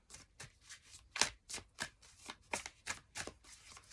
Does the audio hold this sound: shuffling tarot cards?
yes